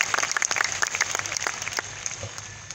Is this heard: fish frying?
no